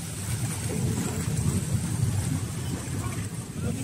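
Waves crash and churn along the shore of Manila Bay, a continuous rough wash of water with wind noise, while someone speaks over it.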